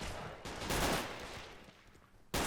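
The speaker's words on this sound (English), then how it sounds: "Shot dead by an STG-44." An STG-44 rifle fires in a war video game hilltop battle, giving a dense, loud stretch of gunfire and blasts that thins out, then returns with a sharp burst at the end.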